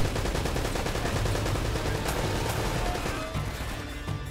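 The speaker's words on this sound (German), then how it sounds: "da sind Fässer zum Explodieren" Barrels blow up amid heavy gunfire in Uncharted: Drake's Fortune at a fortress, a continuous loud barrage of shots and crashing impacts with sharp bursts near the middle, easing slightly toward the end.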